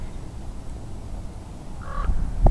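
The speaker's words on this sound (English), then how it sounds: "That bird just won't shut up" A crow caws outdoors on a mountain, a couple of short harsh calls near the end over steady low background noise.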